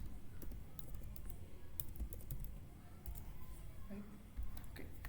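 Steady typing on a computer keyboard, with quick clustered keystrokes clicking along at a close, moderate level throughout over a faint low background hum.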